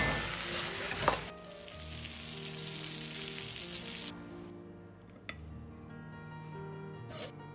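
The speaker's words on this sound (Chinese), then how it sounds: "像这样拌菜倒入锅中，然后用勺子快速的翻炒均匀。" Potatoes and green beans are stir-fried in a wok with a spoon, a soft, steady sizzle with light scraping and stirring clatter and a few sharp clinks, quiet and close, with no talking.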